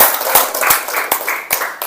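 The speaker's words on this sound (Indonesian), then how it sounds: "Tepuk tangan untuk Andre" A few students applaud a classmate in a classroom: sparse, uneven claps from a small group at close range, with distinct sharp hits spaced through a brief burst and no talking.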